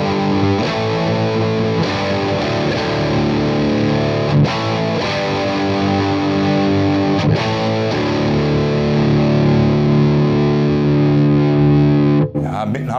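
A Diezel Paul amp on channel two drives a distorted hard rock rhythm guitar, playing loud, sustained chugging chords with brief stops, dense and continuous throughout.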